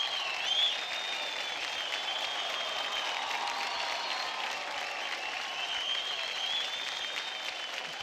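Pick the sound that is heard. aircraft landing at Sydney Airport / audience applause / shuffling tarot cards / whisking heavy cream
audience applause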